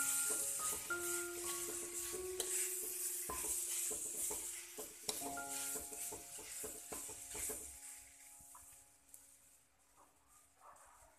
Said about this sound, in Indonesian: Lanjut kita masukkan kelapa parut. Aduk-aduk biar bumbunya merata.